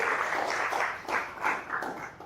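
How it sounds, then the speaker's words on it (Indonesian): A classroom group applauds a classmate with a short burst of clapping that swells and fades in uneven waves, moderately close. "Beri tepuk tangan untuk temannya"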